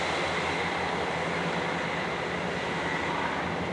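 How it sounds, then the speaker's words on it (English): A train passing near Halifax Minster on a gusty day, a steady broad rumble of rail cars that holds evenly across the whole stretch with no voices. "Oh, a train."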